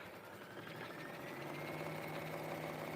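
A quilting sewing machine stitching steadily at close range, a soft continuous motor hum with a rapid rhythmic needle patter running throughout.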